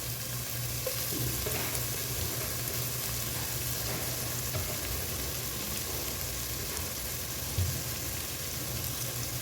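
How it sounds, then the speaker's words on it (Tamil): Onions frying with cinnamon and cloves for beef biryani, a dense, steady sizzle with faint stirring scrapes and small pops, continuous and close with no talking. "வெங்காயம் கொஞ்சம் நல்லா ப்ரௌன் ஆகட்டும். ஸோ இதோட பட்டை கிராம்பு அப்படியே சேர்த்துடலாம்."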